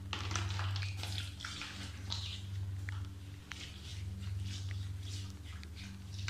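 Water runs and splashes steadily as a face is washed with cold tap water and ice cubes, a faint, continuous trickle with small splashes and no break.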